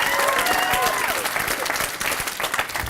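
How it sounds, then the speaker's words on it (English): An education-seminar audience gives loud, dense applause for a participant named Max, with some cheering and crowd voices mixed into the steady clapping. "Round of applause for Max."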